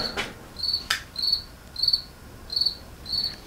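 A cricket chirps close by in regular bursts of high trills, about five evenly spaced chirps, heard during work removing a glued-on car window, with a couple of sharp knocks near the start.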